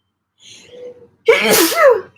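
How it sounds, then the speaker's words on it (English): A sharp, forceful sneeze bursts out after a brief breathy intake, close and loud. "Oh, I have to sneeze all of a sudden."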